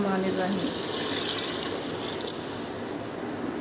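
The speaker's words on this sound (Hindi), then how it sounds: "अब हम इसमें पानी ऐड करेंगे" Water pours in a continuous gushing splash into moong and masoor dal tempered in a cooking pot, steady and close.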